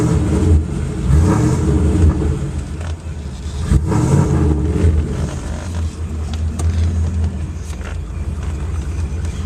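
A Mercedes car with an aftermarket exhaust rumbles loudly and close at idle, with deep, throaty revs rising and falling throughout.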